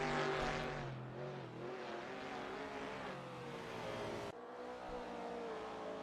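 Sim racing game cars at a Goodwood handicap race, including a powerful Mustang pulling away from a Porsche, drone with sustained engine roar and gear-change pitch steps, loud and steady throughout, no voices.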